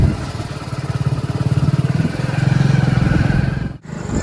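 A faulty motorcycle engine runs loud and close with a steady pulsing throb, briefly dipping near the end.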